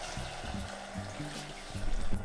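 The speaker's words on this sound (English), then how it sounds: "I'm just going to get some freshly boiled water and pour it into the pan" Freshly boiled water poured into a pan to soak off caramel residue, a soft trickling splash with faint clunks, fairly quiet and without talk.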